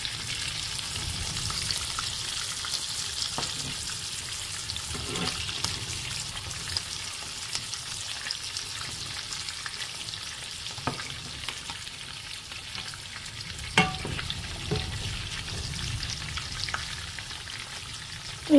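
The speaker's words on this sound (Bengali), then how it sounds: "এক সাইড পালা করে ভাজা হয়ে গেলে অন্য সাইডে আমি উল্টে দিব আর 5 মিনিট করে টোটাল 10 মিনিটস আমি ভাজবো" Masala-coated fish and eggplant fry in a pan, a soft continuous sizzle and crackle with occasional faint stirring clicks, no talking.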